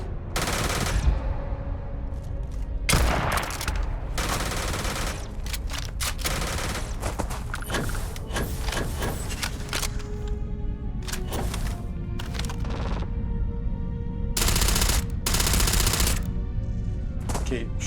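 Rapid gunfire in a Starfield space game battle: bursts of automatic weapon shots and single cracks, close and loud, repeating in clusters over a steady background of combat noise.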